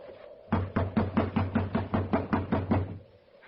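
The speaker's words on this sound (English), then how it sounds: "You just have to keep knocking till he wakes up." About a dozen firm, evenly paced knocks land on a locked wooden door in an old western, close and steady for a few seconds, with no talk.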